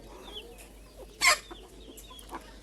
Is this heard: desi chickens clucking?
yes